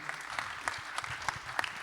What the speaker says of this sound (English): Just a quick round of applause for our panelists up here